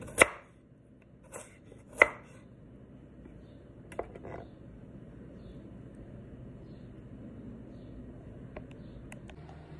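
A kitchen knife chops vegetables such as carrot into small pieces on a board. A few sharp, spaced knocks ring out close by, then fainter scattered taps come over a steady low room hum.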